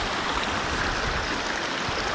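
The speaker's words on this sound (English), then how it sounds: "Beautiful looking river." A river runs steadily through dry, desert-like country, with a constant close rush of flowing water and no breaks or voices.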